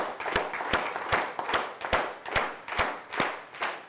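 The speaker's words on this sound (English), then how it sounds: "we're going to try an equally loud clap, only this time we're going to try to match my rhythm" An audience claps loudly together in a steady, even rhythm, roughly two claps per second, crowd-wide and close, with no talk.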